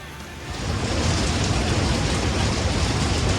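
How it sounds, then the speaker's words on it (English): A swollen river roars beneath a stone bridge arch during heavy rain, a dense, continuous rushing that swells in within the first half second and then holds loud and steady. "That roar is the roar of the river at the moment."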